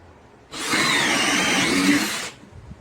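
A DeWalt 20V MAX cordless brushless hammer drill bores through a piece of wood with a self-feeding 1-inch Irwin Speedbor bit, one steady whining burst of just under two seconds, loud and close, with quiet before and after.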